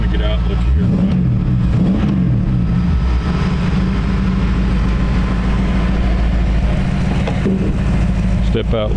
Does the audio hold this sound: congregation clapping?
no